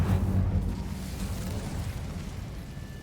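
Casting the Incendio fire spell in Hogwarts Legacy gives a sudden burst of roaring flame at the start, then a rumbling, crackling body that slowly fades over about three seconds.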